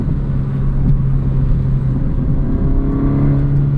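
A 2023 Honda Civic Si's 1.5-liter turbocharged four-cylinder engine revs steadily up close, a throaty drone with an angry induction note and rising harmonics that grows louder toward the end.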